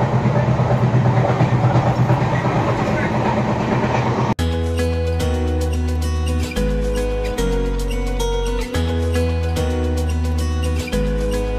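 The Durronto Express from Bangalore to Bhubaneswar runs on its rails with a loud, continuous rumble for about four seconds, then music cuts in and takes over.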